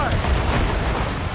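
Ship cannons boom in a naval battle in Assassin's Creed Rogue, a dense rumbling barrage of heavy low blasts that fills the moment without talk.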